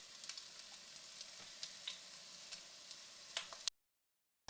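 Eggplant frying in a little oil, a steady close hiss with scattered pops and crackles, ending abruptly in silence.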